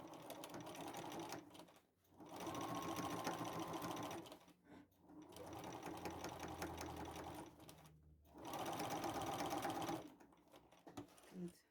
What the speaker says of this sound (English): I'm going to sew this a little bit over because I sewed too close to the edge here.